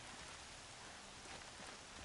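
Steady rain in the video game Horizon Zero Dawn, a dense, even hiss of falling drops that stays constant throughout without any voices.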